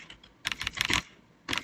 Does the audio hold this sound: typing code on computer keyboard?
yes